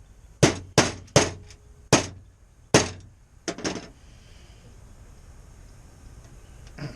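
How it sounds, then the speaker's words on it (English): Metal tool work on an antique Corbin mortise lock with a screwdriver, about seven sharp close metallic clinks and taps in an uneven rhythm, then a faint quiet tail, no talk. "So I'm gonna put the screwdriver in."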